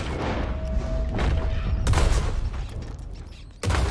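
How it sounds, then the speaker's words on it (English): Shotgun blasts aimed at a rat in Red Dead Redemption 2, with two sharp, loud reports a couple of seconds apart, each followed by a rumbling decay over background game noise. "Turns out it's impossible to hit a rat with a shotgun."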